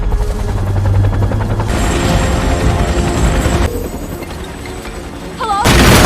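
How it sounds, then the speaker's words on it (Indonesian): A Los Angeles Fire Department rescue helicopter in a film scene thumps loudly and continuously with rotor chop and a heavy engine roar, layered with booming cinematic effects and a sudden change in texture near the end. "Los Angeles yang dipimpin oleh Ray Gaines tiba menggunakan helikopter untuk melakukan penyelamatan"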